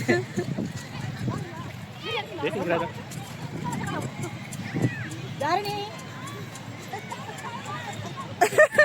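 Horse hooves clip-clop on the sand at Marina Beach in Chennai, with occasional snorts or whinnies amid a busy seaside crowd, heard under steady nearby conversation and background chatter.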